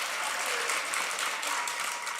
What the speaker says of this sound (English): Everybody, give them a round of applause again